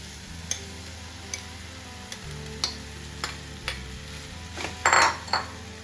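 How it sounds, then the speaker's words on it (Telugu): Cooked rice tipped into a pan of tomato and oil for tomato rice, with scattered light clinks and scrapes of a spoon against the pan over a steady low hum, close and moderate. "ఇలా కొంచెం ఆయిల్ తేలుతున్నప్పుడు మనం రైస్ తీసుకున్నాం కదా రైస్ వేసుకోవాలి"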